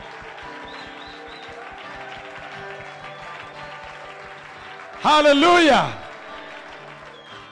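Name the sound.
audience applauding in church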